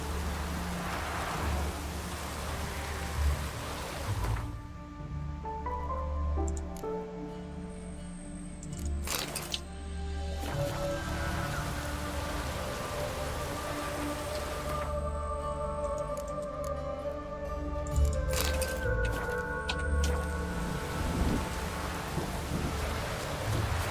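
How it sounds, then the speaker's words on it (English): A rainstorm with rolling thunder in The Witcher 3 video game: steady rain hisses throughout while deep thunder rumbles and cracks several times, loud and close, with no talking. "A storm, damn it."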